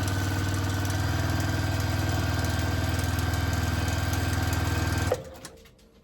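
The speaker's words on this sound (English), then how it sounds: "Now I'm just going to sew for a minute and make sure that it all looks good." A Juki TL 2010 sewing machine, freshly cleaned and oiled, runs steadily at an even stitching rhythm for about five seconds, close and loud, then stops abruptly, leaving a faint fading hum.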